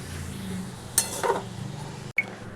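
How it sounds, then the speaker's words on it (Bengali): A utensil stirs vegetarian chow mein, dressed with vinegar, in a pan, giving a soft scraping rustle with a few sharp metallic clinks against the pan, close up and without talk. "এটা কিন্তু নেড়ে নিয়েছি"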